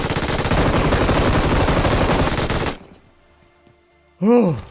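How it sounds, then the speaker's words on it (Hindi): MG3 machine gun firing in the BGMI video game, a loud, dense sustained burst for almost three seconds that cuts off into near silence, followed by a short tonal game sound effect. "MG3 एक बीस्ट गन है"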